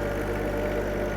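An open cab tractor with forks fitted runs steadily, a close, loud, even engine drone with a low mechanical throb and no voices.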